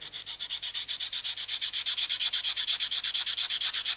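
Sandpaper worked by hand along the edge of a wood veneer ring blank, close up: quick, steady back-and-forth strokes, roughly thirty raspy passes in a few seconds, with no voices.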